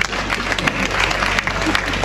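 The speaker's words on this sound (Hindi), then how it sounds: "जितने भी लोग यहाँ पर है वो रेखा जी के लिए ताली नहीं बजाते हैं" Loud audience applause at a college award function, a sustained crowd of hands clapping with some crowd noise mixed in.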